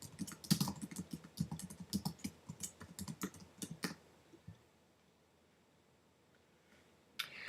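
Someone types a title on a computer keyboard in quick, close bursts of key clicks for about four seconds, then near silence before one more short click near the end.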